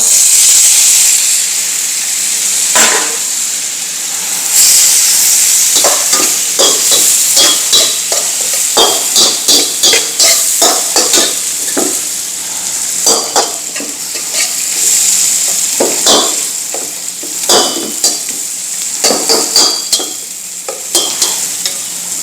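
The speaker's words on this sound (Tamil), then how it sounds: "இப்போ நம்ம பாக்கி உள்ள தக்காளி பழத்தை இப்போ நம்ம வெட்டி வச்சு தக்காளி பழத்தையும் அதில் போட்டுடலாம்ப்பா" Chopped tomatoes fry in a hot pan for a Chettinad meat curry, with a steady sizzle and hiss and repeated scraping stir strokes throughout, close and loud with no talking.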